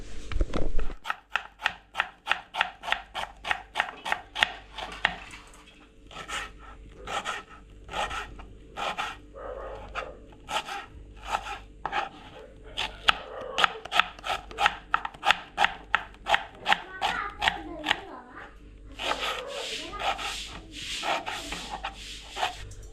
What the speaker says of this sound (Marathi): हे दोन कांदे घेतलेत हा एक टॉमॅटो घेतला आहे आणि खोबरं घेणार आहोत सुकं तर आधी हे कापून घेतो